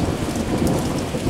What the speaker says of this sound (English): And listen to that thunder